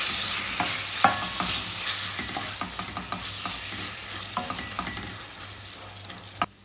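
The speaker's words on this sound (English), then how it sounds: "Now I am adding in the tomatoes. And fry this for nearly 3 to 4 minutes." Tomatoes frying in a pan with ingredients already sauteed, for tomato chutney: a constant close sizzle with frequent scraping and knocking of a spoon as the mixture is stirred, ending in one sharp clack.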